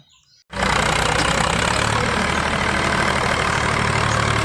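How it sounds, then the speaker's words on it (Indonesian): A tractor engine starts after a brief quiet moment and then idles loudly and steadily, with a low rumbling, knocking chug. "ini traktor"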